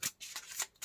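Tarot cards are shuffled in quick, faint riffling bursts, several short crisp rustles within under a second, close and alone.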